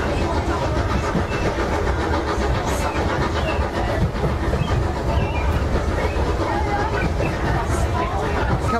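A heritage train on the Severn Valley Railway at Bewdley rumbles as it departs, with rhythmic clickety-clack of wheels on rails, a steady rolling noise that stays fairly loud throughout.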